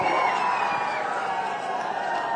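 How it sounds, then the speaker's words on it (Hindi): A crowd, including children, at a district-level Rajiv Gandhi rural and urban Olympic games event in Phalodi cheers and whoops continuously to greet a Rajasthan cabinet minister, a loud, steady, close roar. "जोरदार तालियां हो जाए"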